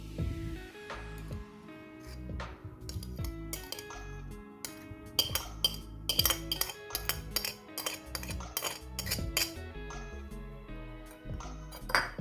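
Rujak u groh, the Acehnese fruit salad, being stirred in a coconut shell bowl, with repeated clinks and scraping taps of a utensil against the shell in an irregular rhythm, close and moderately loud, with no talking.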